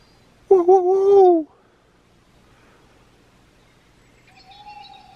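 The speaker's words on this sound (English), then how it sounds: "Just heard an owl." An owl hooting on a freezing night at a wild camping spot in Northumberland: one loud, close, wavering hoot of about a second, then quiet and a fainter drawn-out call near the end.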